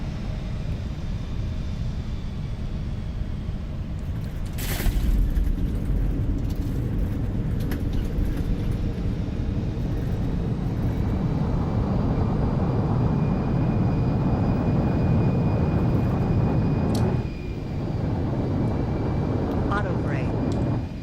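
An Embraer E175 jet in X-Plane 12 touches down and roars as thrust reversers spool up, a loud rumbling surge that swells after a bump and fades near the end, with a cockpit chime and brief voice callouts.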